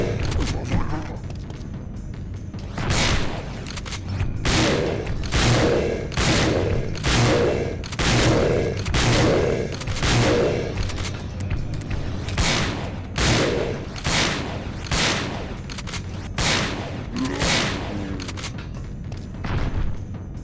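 Gunfire from a character standing still and shooting in Resident Evil Dead Aim, a steady series of loud sharp shots spaced under a second apart for about twenty seconds, with a low game rumble and faint voice underneath.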